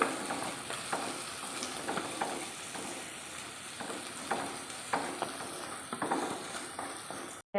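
Ginger, garlic and green chillies fry in a pan with a steady, close sizzle while a spoon stirs them, adding repeated scraping strokes at an uneven rhythm.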